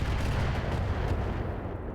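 A mech weapon salvo fires in the BattleTech RogueTech game, a loud continuous rumbling barrage of heavy booming impacts filling the whole short moment.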